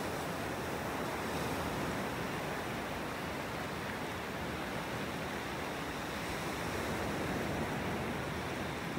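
Gentle surf on a sandy Gulf beach in North Naples, Florida at sunrise, a steady soft wash of waves with slight wind noise and no voices.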